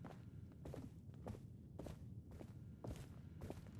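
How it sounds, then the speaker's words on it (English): Footsteps on the floor above in the video game Depravity come as a slow, regular series of about six soft, muffled thuds, faint and overhead. "I hear footsteps up above"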